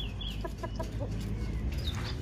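Farmyard chickens give a short run of quick, soft clucks after eating cat pellets, heard close over a low background rumble with no talking.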